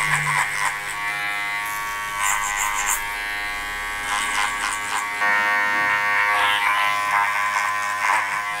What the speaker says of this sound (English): trimmers just to work along that blend down the bottom. And just a little bit of clipper over comb just to perfect it